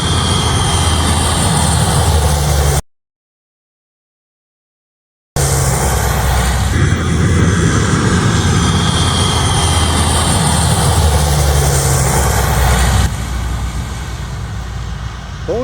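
A Philippine Air Force propeller plane landing near a beach, a loud sustained droning engine roar that cuts out briefly then returns and slowly eases.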